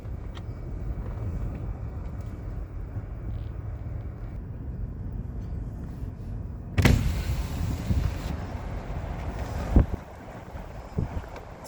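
Strong wind at Sodus Point near the lighthouse and pier roars steadily across the microphone in a low rumble. About halfway through, a louder gust bursts in with buffeting, followed by a sharp thump and a few smaller knocks.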